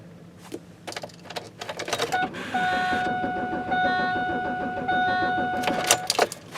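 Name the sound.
car engine cranking over but not starting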